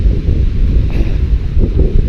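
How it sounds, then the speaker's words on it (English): Strong wind buffets the microphone on a foggy ridge of the Appalachian Trail heading toward Clingmans Dome, a loud, continuous low roar with gusty swells and no voices. "A little windy, a little foggy."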